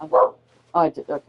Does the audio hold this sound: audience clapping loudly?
no